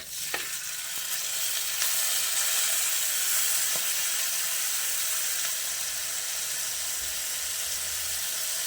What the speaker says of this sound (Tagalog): Saka natin gigisa yung bagoong.